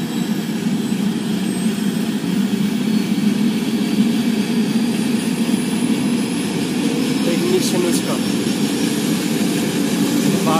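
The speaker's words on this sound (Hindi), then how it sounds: "ये हेलीकॉप्टर स्टार्ट हो रहा है।" Helicopter engine starting up at the Gauri Kund stop on the Manimahesh pilgrimage route, a steady loud low roar and whine running throughout, with a brief higher tone near the end.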